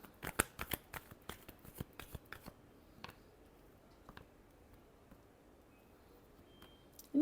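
Tarot cards are shuffled by hand in a quiet room: a quick run of crisp riffling clicks at the start, then a few scattered taps and soft flicks before a final louder shuffle.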